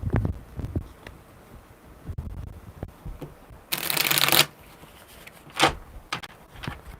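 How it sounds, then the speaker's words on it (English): Tarot cards are shuffled in a few quick riffling bursts, the loudest a crisp flutter midway, amid quiet handling noises. "One more good shuffle."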